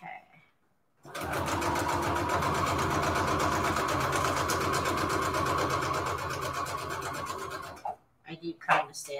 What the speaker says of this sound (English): We're sewing and we're going.